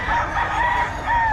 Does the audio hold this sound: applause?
no